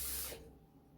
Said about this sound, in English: I'm going to add just a little bit of water